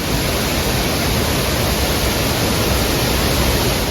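A waterfall at Paderu pours in a steady, loud, full roar that holds without a break from start to finish, with no voices over it.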